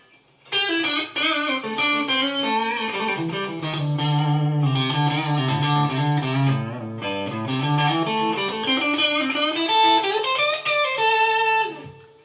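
A Kiesel Vanquish electric guitar on its neck pickup plays a sustained melodic line with a warm, slightly driven tone and smooth bends, solo without any talking.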